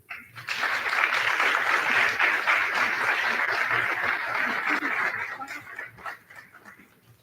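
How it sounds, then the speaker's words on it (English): Audience applause for faculty at a practical nursing pinning ceremony, a dense burst of clapping lasting several seconds before tapering off, with a few voices mixed in. "So let's give them a round of applause."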